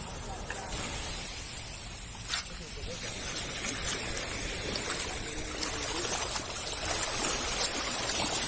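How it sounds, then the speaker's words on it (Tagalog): A strong river current rushing steadily near the shore during overnight bangus fishing at Bolinao, a constant broad hiss of flowing water with a few splashes and faint voices underneath. "Lakas ng agos."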